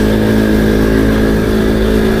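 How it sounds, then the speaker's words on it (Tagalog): Heavy street traffic of cars and motorcycles in Taiwan, a loud, steady close engine drone and rumble with revving motors passing continuously. "dami ng sasakyan sa mga ganitong oras"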